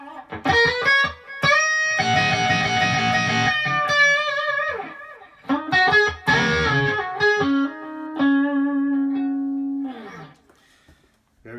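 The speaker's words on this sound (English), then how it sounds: "I'll just hit some real quick chords so you can hear the echo." Electric guitar strums a few quick chords, each ringing out with a trailing echo that repeats and fades, ending on a sustained note.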